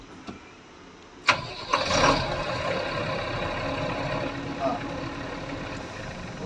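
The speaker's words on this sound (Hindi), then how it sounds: "गाड़ी चालू करना है।" The diesel engine of a BS6 Mahindra truck cranks and catches with a sharp click. It settles into a steady, rumbling idle in the cab, and a voice speaks faintly over it.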